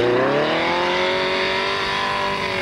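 A trials car on a cut-up, slippery course revs hard as its rear wheels spin, the engine note climbing then holding in a loud, sustained whine with no voices.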